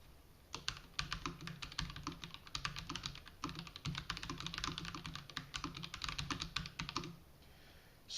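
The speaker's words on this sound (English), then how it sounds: "So the keys don't take much force to activate, and they do have a slight mechanical click." Rapid, steady typing on a Razer BlackWidow V4 RGB gaming keyboard with light-force mechanical switches giving a slight click, keystrokes dense and continuous, close and quiet, stopping near the end.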